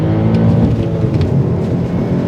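Supercharged engine of an Audi S5 B8 pulling hard under acceleration after a downshift, a loud continuous deep roar with steady intensity, no voices over it.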